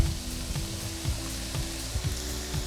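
Vegetables including sweet peppers and garlic fry in a pan with a steady, moderate sizzle throughout, and soft scrapes of stirring recur through the bubbling.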